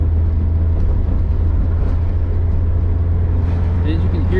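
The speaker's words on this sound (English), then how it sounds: "As you can hear the shift point, it's really smooth" Vanagon van with a swapped K24A engine driving in drive and shifting gears, a loud, steady engine drone heard from the cabin with only slight changes through the shift.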